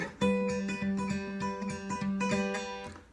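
A classical-style fingerpicked acoustic guitar plays the intro of a song, with a steady picked rhythm over a repeated low bass note, close and clear with no voices.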